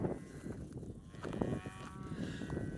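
Cattle lowing on an open mountain range trail, a few drawn-out moos near and mid-distance over a steady outdoor background.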